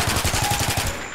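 Rapid automatic gunfire in a custom zombies map of a video game, a loud, close burst of about a dozen evenly spaced shots with no talk.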